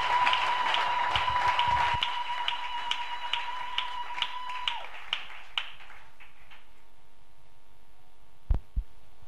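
Congregation at a church service in Kolwezi clapping in a steady, even rhythm over a sustained tone. The claps thin out and fade after several seconds, leaving a quiet room and a couple of faint knocks.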